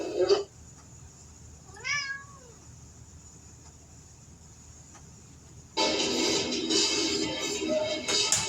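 A cat meows once, a short rising-falling call, in a quiet room; brief noises at the start and a burst of broad rustling noise near the end.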